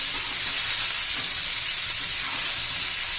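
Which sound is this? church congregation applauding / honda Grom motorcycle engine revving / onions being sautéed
onions being sautéed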